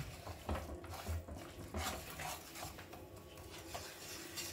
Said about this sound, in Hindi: सब चीज़ों को मिक्स करेंगे।